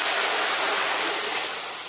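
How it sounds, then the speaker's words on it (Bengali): Water poured into a frying pan after potatoes were fried, a dense, steady rushing splash close by that fades slightly toward the end, with no talk. "কড়াইতে জল দিয়ে দেবো"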